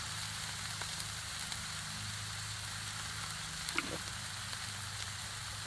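Smash burgers seasoned with adobo sizzle and fry on a Blackstone griddle, a steady close crackling hiss with faint scraping and a low background hum.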